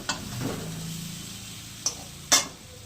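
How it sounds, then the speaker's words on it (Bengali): Katla fish curry with new potatoes and bori being stirred in a pan: a soft, low sizzle runs throughout, broken by a few sharp clinks of the spoon against the metal. "ভালো করে কষিয়ে নেব"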